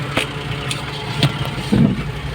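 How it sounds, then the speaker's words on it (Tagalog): A multicab's carburetor engine idles unevenly under a fault, its low rumble surging and dipping in uneven pulses close by, with no talking. "parang humihinga-hinga siya hindi stable yung idling o yung kanyang idle"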